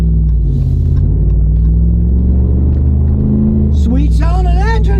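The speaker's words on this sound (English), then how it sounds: "Sweet sounding engine." A Ram truck engine pulls loud and close in a steady low rumble, then rises sharply near the end as it accelerates hard, with a rising pitch sweep over the last second.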